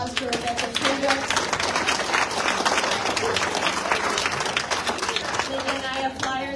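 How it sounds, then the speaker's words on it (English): A gathering at a political meeting breaks into sustained applause, dense rapid clapping throughout with voices talking over it. "Let's give another round of applause for Rebecca Patriots."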